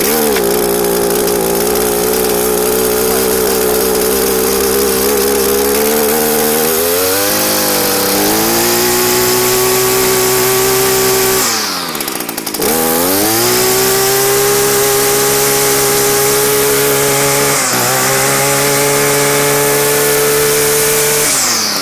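An Echo SRM266 gas-powered string trimmer engine runs loud and close, idling and then revving up and down repeatedly, with a brief dip partway through before it picks back up to a steady high whine.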